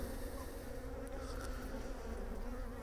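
Honey bees buzz continuously at an open beehive during an inspection, a dense, close, steady hum with no talking.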